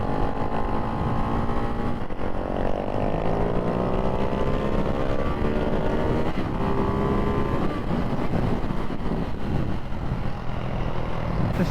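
A Ducati Hypermotard 698 Mono or KTM 690 SMCR supermoto engine revs steadily while riding, a loud continuous single-cylinder drone with rising and falling pitch sweeps and heavy wind rush throughout.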